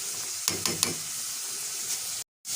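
Chicken drumsticks fry in a pan with a dense, continuous sizzle, a few quick stirring scrapes near the start and a brief cutout near the end, close and moderately loud.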